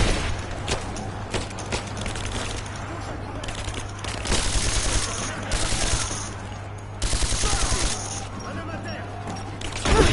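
In the video game Rise of the Tomb Raider, a machine gun fires loud, rapid bursts that come and go over several seconds, mixed with other game effects. Someone talks excitedly in French over the shooting.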